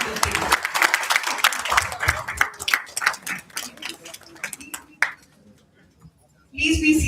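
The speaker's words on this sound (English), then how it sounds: "Let us now give ourselves a big round of applause for showing up as hunger warriors every single day." Applause from a townhall audience, mixed clapping and voices early on, thinning into scattered claps and talk before a fresh burst of sound at the end.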